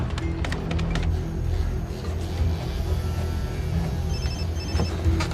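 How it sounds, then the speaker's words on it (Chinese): A telephone rings indoors, a short repeated electronic ring that stays faint under a steady, dense background of low rumble and noise, with no one speaking. "蔡叔，你不要着急，我现在马上打电话落实一下情况。"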